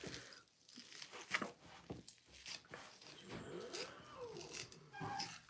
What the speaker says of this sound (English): The dogs are bothering the cat.